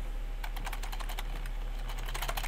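Keys clatter on a computer keyboard during setup of an AMD motherboard with built-in CPU and RAM, a quick irregular burst of soft clicks over a steady low hum, fairly close.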